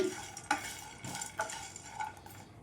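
Brinjal masala fries in a pan over medium heat, a quiet sizzle beneath three or four distinct scraping stirs of a metal spoon against the pan, close but faint, with no voices.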